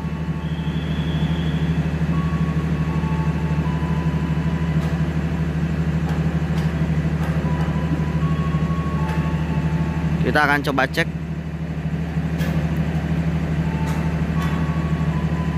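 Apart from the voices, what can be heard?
train arriving at Kutoarjo station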